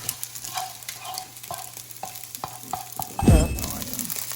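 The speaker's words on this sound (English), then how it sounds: "I'm going to add the teriyaki towards the end. Go ahead and put that in here." Teriyaki sauce hits a hot hibachi-style pan at home, a loud burst of sizzle near the end over steady scraping and stirring of the food.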